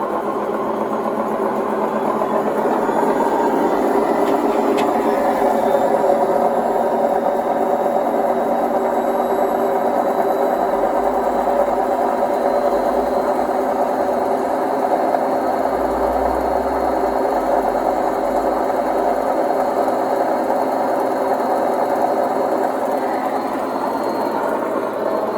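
An Indesit WIDXL12 washing machine with worn drum bearings runs with a loud, continuous rumbling hum and steady mechanical drone that is close and unbroken throughout.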